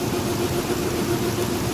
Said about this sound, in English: All right, well, the car started.